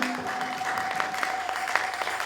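A church congregation applauds and cheers for the Lord, a dense, continuous wash of clapping with a sustained tonal note running underneath.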